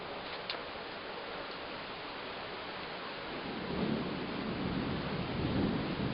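Steady heavy rain pours during a thunderstorm at a camp, with a low rolling rumble of thunder building toward the end; a faint tick sounds early on, and no one speaks.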